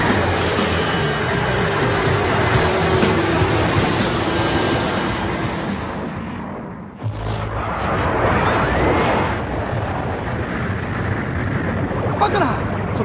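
A loud, sustained roaring blast fills the scene, dips briefly, then surges again with rumbling debris and voices mixed in.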